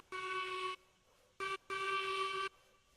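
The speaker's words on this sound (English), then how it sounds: "You know, I really do hate this whistle." A shrill steam locomotive whistle in the train game Railroads Online, blown in three blasts: a long note, a short toot, then another long blast, loud and clear against a quiet background.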